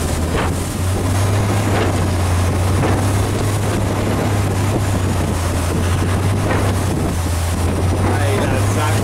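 A motorboat engine drones steadily and loudly on open water, with heavy wind buffeting the microphone and the wash of waves mixed throughout.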